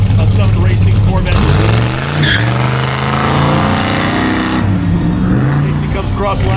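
A Summit Racing Corvette on an autocross run at a Goodguys shootout: a loud, close engine roaring and shifting pitch with tire squeal, while an announcer talks over it.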